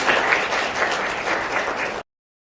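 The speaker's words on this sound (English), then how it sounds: "Could you please welcome her with an applause?" An audience at the launch of the Protection Against Domestic Violence Rules applauds to welcome Esther Passaris, with steady, dense clapping for about two seconds that stops abruptly.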